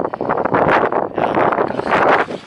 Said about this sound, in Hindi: काफी विंडी है, काफी तेज हवा है